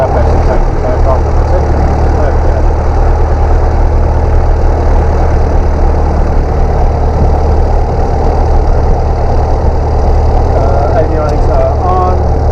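Light aircraft piston engine running with revs held up as the choke comes off, a loud, steady close-up drone with a continuous low rumble, a voice faintly underneath near the end.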